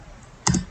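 A single short keystroke sounds from a computer keyboard during data entry, a brief close tap after a moment of quiet hum.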